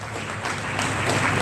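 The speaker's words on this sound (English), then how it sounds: "I think he deserves a louder round of applause." Audience applause for a senator, the national chairman, at a Niger Delta convergence event in Uyo: a steady, dense wash of clapping from a crowd that swells slightly louder toward the end.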